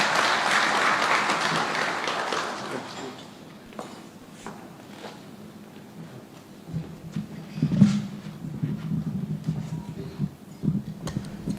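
Audience clapping in a hall at a Kenya-Burundi joint commission session, a dense burst of applause for about three seconds that thins into scattered claps and shuffling, then faint movement noises.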